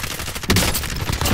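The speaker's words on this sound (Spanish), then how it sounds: "Balazos abajo de nosotros." A dense burst of rapid gunfire crackles continuously, loud and harsh, with overlapping shots and no pauses, in the video game Call of Duty: Modern Warfare.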